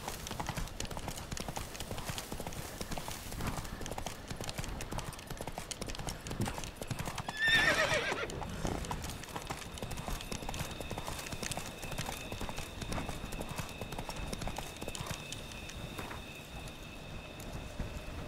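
Roach the horse galloping in The Witcher 3, a steady fast clip-clop of hooves with a single whinny about midway, heard close over faint game ambience.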